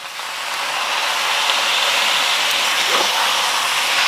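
Sauce hits a hot wok for beef chow fun and erupts into a loud, bright sizzle that swells within half a second and then holds as a steady close hiss.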